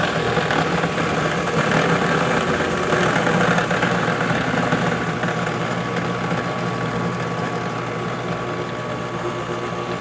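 A WEN 12-inch benchtop drill press runs steadily at variable speed, near 3270 RPM, producing a loud continuous motor whir and belt hum that holds for the whole stretch, with no talking.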